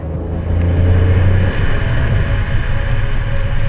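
A 2020 Opel Corsa's turbocharged 1.2-litre three-cylinder engine drones loudly and close, a steady low rumble with wind and road noise over a few seconds, no voices.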